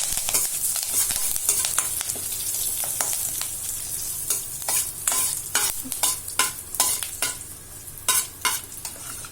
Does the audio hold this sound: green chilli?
yes